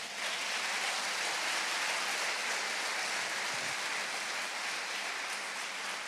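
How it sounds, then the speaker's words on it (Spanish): A church congregation applauds steadily, a dense, even wash of many clapping hands sustained for several seconds. "Démosle aplauso al Señor"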